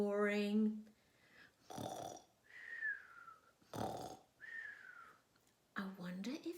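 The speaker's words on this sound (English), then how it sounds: "Then the prince heard the guards snoring." A story sound effect of castle guards snoring gives several slow, rhythmic snores, each a rasping inhale or a whistling exhale, spaced by quiet pauses.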